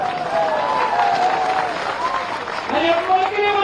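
A crowd claps steadily at a BJP Jan Ashirwad Yatra political rally in Dimni, Morena district, Madhya Pradesh, a dense, sustained applause with a speaker's voice carrying over it.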